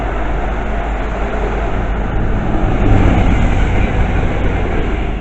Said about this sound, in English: there goes the Avanti Voyager, and that's from I believe Chester to London Euston